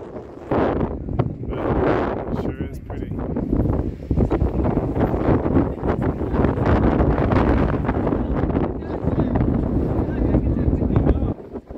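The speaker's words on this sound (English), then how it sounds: "up here it's pretty breezy." Breezy wind on top of the Anakeesta observation tower in Gatlinburg buffets the microphone with a loud, uneven rumble, with a person talking over it at times.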